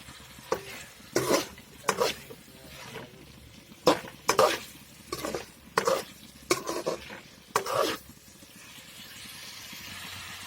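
Fish being stirred into masala curry in a pan, a series of separate scraping and sizzling strokes, about nine close bursts with short pauses between them over a faint background hum.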